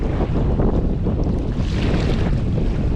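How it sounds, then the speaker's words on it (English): Strong wind blows across the sea around a kayak during UK kayak fishing, a loud, continuous roar buffeting the microphone with water washing underneath. "At the moment, the wind is literally blowing me towards the beach"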